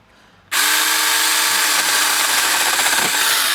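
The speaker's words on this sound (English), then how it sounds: "I'm going to just hold the chainsaw there" A chainsaw bites into a tree branch while thinning it out, starting abruptly after a quiet moment and running as a loud, steady, close buzzing rasp with slight pitch dips as the chain loads in the wood.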